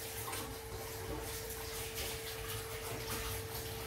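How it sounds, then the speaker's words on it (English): Water running steadily from a tap while a container is rinsed out in a kitchen during porridge cooking, a continuous faint hiss with a low rumble and a thin steady tone underneath, no talk. "leave that to boil for a minute while I rinse out the container"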